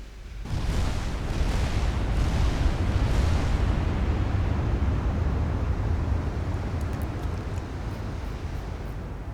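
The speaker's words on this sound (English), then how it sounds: "Can we catch this ship firing for a thumbnail?" Warship guns in the naval battle game Ultimate Admiral Dreadnoughts, a loud rolling roar of overlapping cannon blasts that swells early and rumbles on continuously as a dense, booming wash without talk.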